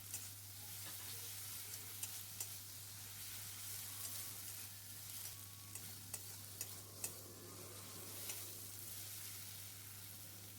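Ginger and garlic paste with tomato sizzles steadily in a hot pan, with soft intermittent stirring scrapes and small pops over a continuous low hum, quiet and close.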